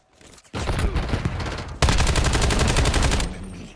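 Automatic weapon fire in Call of Duty: Warzone: a short burst, a brief gap, then a louder, sustained rapid volley of close gunshots that cuts off sharply near the end.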